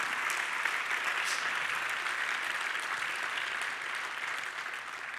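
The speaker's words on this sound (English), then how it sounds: "A big round of applause to him." A large audience applauds a guest at a remembrance evening opening an international conference, with a dense, sustained clapping that fades slightly toward the end.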